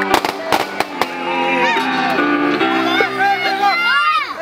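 Scattered, crisp clapping for a surprise birthday tribute to Sidnéia and Sidnei, turning 51, bursts loudest near the start and then thins out beneath lively talking voices.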